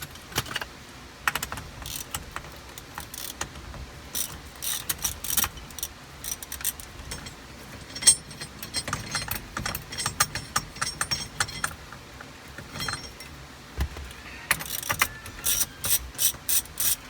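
A ratchet works loose the steering wheel bolt on a Ford steering column, with bursts of quick clicking pawl ticks that start and stop irregularly, close up and fairly quiet, with no one speaking.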